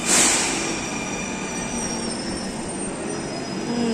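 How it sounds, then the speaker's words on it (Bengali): A Dhaka metro train rumbles steadily along the rails, with high whining wheel squeal running through the whole stretch; no voices. "আমরা এখন মেট্রোতে আছি।"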